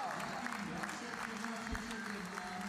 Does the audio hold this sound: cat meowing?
no